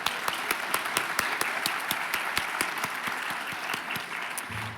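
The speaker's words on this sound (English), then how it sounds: "Let's all give them a round of applause" An audience at a CalWORKS training event applauds with steady, scattered clapping from many hands, moderately distant and fairly soft, continuing evenly throughout.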